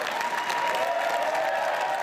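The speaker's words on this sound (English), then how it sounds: "A roar of applause for Donna Skelly as she takes her place on the dais" Applause fills the Ontario legislature chamber as a new speaker takes her place on the dais, a dense, steady round of clapping from many hands, close and even throughout.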